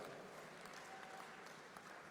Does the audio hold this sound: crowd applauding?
yes